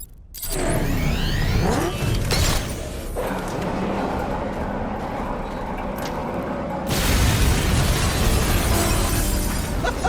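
Ace Chemicals blowing up in the video game Batman: Arkham Knight, a loud sustained roar of blast and debris with shattering crashes, swelling again toward the end, with no talk over it.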